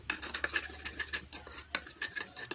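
A spoon clinks and scrapes in a bowl while cucumber salad is stirred with cooking oil and vinegar, a quick irregular patter of small metallic taps, close and alone.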